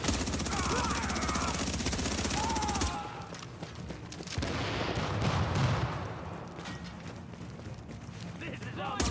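An automated turret in a video game fires rapid bursts, loud at first and then continuing under game noise and voices, busy and chaotic throughout.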